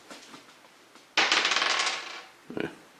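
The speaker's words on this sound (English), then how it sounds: "So I just roll a d6" A six-sided die rolled into a bowl during a tabletop board game, a sudden clattering rattle that bounces and tumbles for under a second before settling, followed by a brief faint knock; close and isolated.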